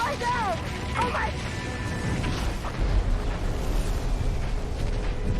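Missile explosions in a video game battle rumble and crash continuously for several seconds, loud and dense, with a shouting voice and radio chatter over the top.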